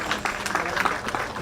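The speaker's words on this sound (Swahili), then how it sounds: "Tupigie Deputy Director makofi mazuri" Brief burst of applause from an audience at a public gathering in Kiambu, a dense patter of clapping over about a second and a half with faint voices underneath.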